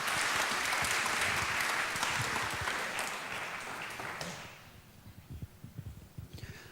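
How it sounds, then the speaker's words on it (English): Audience applause at an Ignite-style talk event, a dense burst of clapping that fills the room for about four seconds, then thins to scattered individual claps and fades out. "I like the clapping. Can I get some more clapping, please?"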